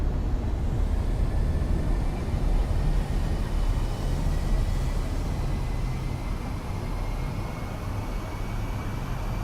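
Spaceship thrusters firing in the video game Space Engineers 2, a steady, loud, deep roar with a faint rising whine, unbroken and heavy for several seconds.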